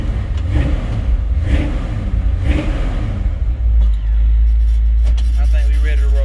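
A fuel-injected truck engine fitted with electric fans cranks and fires back up, a few short revving bursts settling into a deep steady rumbling idle, with people talking nearby.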